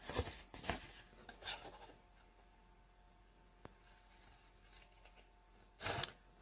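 Blade drawn along a score line to cut a piece of card, a few rasping scrapes near the start and another at the end, quiet and close with pauses between strokes.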